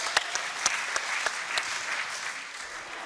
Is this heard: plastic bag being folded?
no